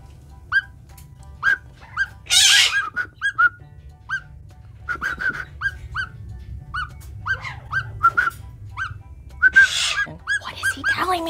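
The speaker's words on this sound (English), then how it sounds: "My parrots are trying to tell me something. They're all screaming." Pet parrots give a run of sharp, repeated chirps and whistles with a few louder screeching bursts, close and insistent over about eleven seconds with steady low background hum.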